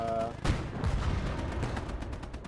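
A cannon in a Cold War alternate-history combat video game fires amid continuous game gunfire and explosions, a sharp loud blast near the start followed by dense rumbling battle noise.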